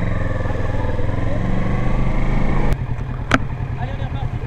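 Motorcycle ridden during A2 licence training, its engine idling and revving in a steady rumble nearby, then easing off after a sharp click, with brief metallic knocks.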